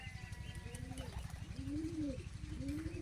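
A young pet bird gives soft, repeated cooing calls close by, rising and falling in gentle swoops over a low, steady background rumble.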